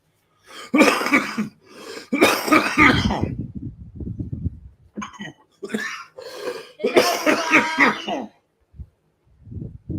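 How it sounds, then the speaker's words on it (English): A run of repeated, rough, close coughs in heavy bursts with brief pauses, then a few softer coughs toward the end. "Still getting over this cough."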